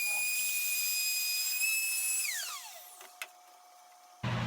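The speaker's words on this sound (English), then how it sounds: "Here I'm just going to use my new router table extension in my table saw and cut a dado for the bottom shelf." A table saw fitted with a router table extension whines at a high steady pitch while cutting a dado for a dresser's bottom shelf, then spins down with a falling tone, followed by a short clunk and a sharp thump.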